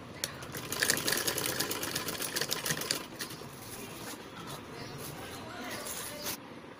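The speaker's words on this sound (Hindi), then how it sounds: "स्टिचिंग स्टार्ट करते हैं" A sewing machine stitches a blouse in a fast, faint mechanical whir of rapid needle clatter, running in bursts that slow and quieten midway, with no talk.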